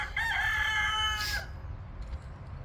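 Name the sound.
chickens and turkeys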